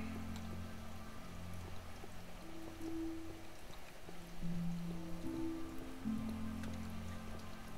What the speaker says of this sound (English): Big ass waterfall.